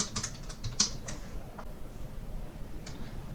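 SQL code typed on a computer keyboard, quick bursts of soft key clicks at first, then sparse isolated taps, close and fairly quiet, with no speech.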